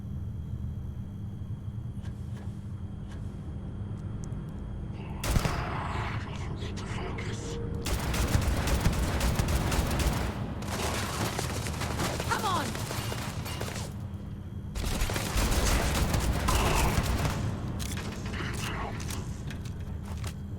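Long bursts of rapid gunfire from a modded gun in the video game Starfield rattle over steady game ambience, with pauses between volleys and a single sharp shot before them.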